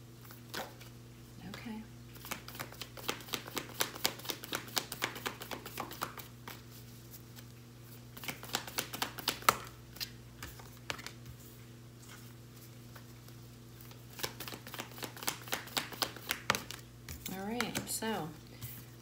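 An angel romance oracle card deck is shuffled in bursts of rapid, crisp riffling clicks, separated by short pauses, over a steady low room hum.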